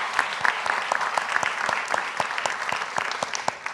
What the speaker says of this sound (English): A round of applause for our journalists from across the Commonwealth.